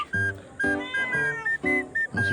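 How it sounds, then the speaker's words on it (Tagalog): Cats meow in a fishermen's home setting: several clear, drawn-out meows come one after another at close range, with no talk over them. "Kaninong pusa to?"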